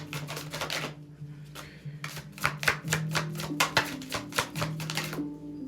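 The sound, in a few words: shuffling tarot cards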